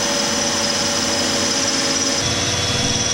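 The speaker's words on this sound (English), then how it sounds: "I want to just really check before I drill." A power drill whines loudly and steadily at close range, drilling into a salmon boat to mount a trolling motor, its motor droning without pause and shifting slightly in pitch near the end.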